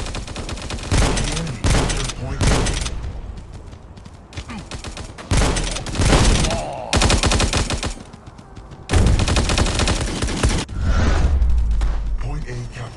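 Rapid gunfire bursts in the mobile shooter game Guns of Boom, loud automatic fire in repeated volleys with short pauses, close and dense, with game announcer callouts between bursts.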